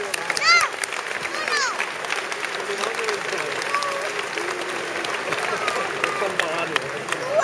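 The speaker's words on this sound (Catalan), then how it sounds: "Un aplaudiment per Antoni." Audience applause for Antoni at the opening ceremony of Cava Week 2014 in Sant Sadurní d'Anoia: dense, steady clapping from a crowd throughout, with a few whistles and cheers over the top.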